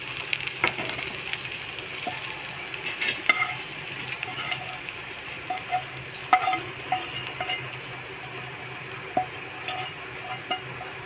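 Dried prawns fry in a pan, crackling and sizzling continuously while a utensil scrapes and stirs them, with occasional louder clicks and pops close by.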